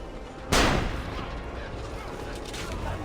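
A cannon fires in the Assassin's Creed Revelations video game, one loud booming blast with a long rumbling decay under quiet game ambience.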